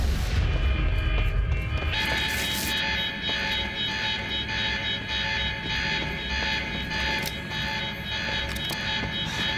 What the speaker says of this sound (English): That alarm's not gonna make my life any easier